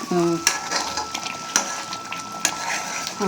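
Kaju paneer butter masala curry bubbling in a pan, stirred with a utensil that scrapes and clinks against the metal at intervals over a steady low sizzle, close by.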